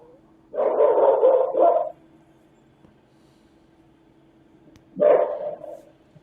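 A dog barks outdoors, picked up by a surveillance camera's microphone. One burst of several quick barks is followed by a pause and then a shorter second burst, heard at moderate distance against a faint, steady background hum.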